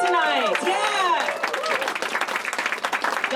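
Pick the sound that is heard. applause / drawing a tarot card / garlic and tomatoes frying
applause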